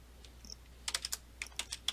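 Keys clacking on a Commodore 64 keyboard, a quick run of crisp, close keystrokes after a couple of lighter taps, with no talking.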